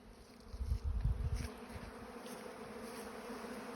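Honey bees buzz close by while cleaning up honey left on filters, a steady hum with a louder low-pitched swell early on that settles into a constant drone.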